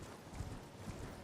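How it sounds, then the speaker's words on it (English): Horse hooves in the video game Elden Ring, a quiet, steady clip-clop of galloping with a couple of heavier thuds, running alone without talk. "you can have a horse and you can kind of just run away from everybody"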